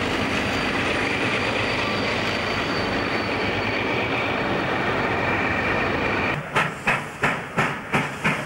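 A steam train working up severe grades in New South Wales, a continuous loud rolling rumble, then a series of sharp, evenly spaced exhaust chuffs emerges near the end.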